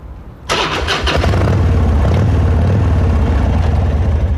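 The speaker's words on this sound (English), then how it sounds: "that's how my motorcycle starts up." A police motorcycle starts at the push of a button and settles into a loud, close, steady engine rumble and idle with no one talking.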